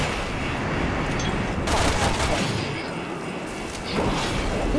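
Explosion and gunfire in the video game Resident Evil 6, a boat sequence: dense, loud bursts of rapid fire and crashing blasts fill the whole stretch, with sharper surges near the middle and end.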